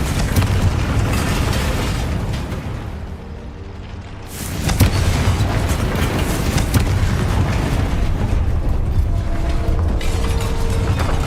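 A Confringo spell blast in Hogwarts Legacy, a loud booming burst followed by rumbling, mechanical battle noise that continues at high volume after a short dip.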